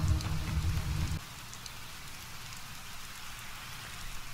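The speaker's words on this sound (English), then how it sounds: "Oh, man, it's raining again." Rain falls steadily in Fallout 4, heavy at first and then softer after about a second, a continuous close patter with no talk over it.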